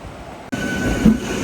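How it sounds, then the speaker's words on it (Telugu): A MEMU electric train pulls away from the next platform at a station, its rumble and wheel noise starting abruptly and holding loud and close, with a brief squeal from the wheels. "పక్క ప్లాట్ఫామ్ నుంచి ఒక మెమో ట్రైన్ అయితే బయలుదేరింది"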